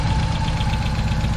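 A Saab Sonett engine idles nearby with a steady, even low rumble and rhythmic tick, loud and continuous with no voices over it.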